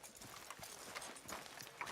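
A horse's hooves clip-clop steadily on a street in the Western video game Red Dead Redemption 2, at a moderate walking rhythm and fairly close, with no voices.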